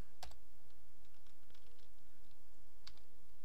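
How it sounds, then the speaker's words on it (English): Computer keyboard typing, sparse soft key taps with a couple of sharper clicks near the start and end, close and quiet over steady background hiss. "And then you can type in whatever else it is."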